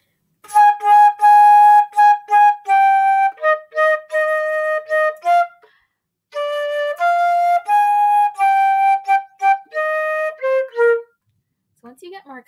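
The second line of "La Bamba" on a lone band instrument at a quicker tempo, crisp short tonal notes in two phrases split by a brief gap, close and clear without voices.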